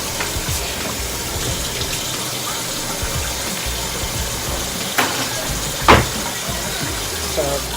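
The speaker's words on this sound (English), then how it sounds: "So right now it's just in a bath water so we can rinse out the pesticides." Tap water runs steadily into a basin as vegetables are rinsed in cold water, a continuous close splashing flow with occasional clunks, under a person talking.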